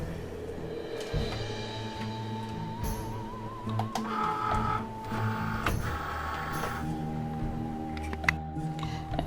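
A Cricut cutting machine draws in its mat for a Halloween T-shirt project, giving a steady mechanical whir with shifting motor tones and small clicks, close by and with no talk.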